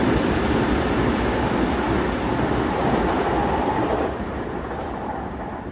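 Continuous rumbling rail noise of a moving train passing through a small cave, dense and roaring, easing slightly toward the end.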